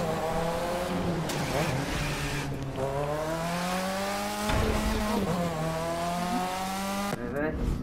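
Engine drone of a car drifting and racing in The Crew 2, a steady sustained tone with pitch shifts as it revs and slides, continuous and loud throughout.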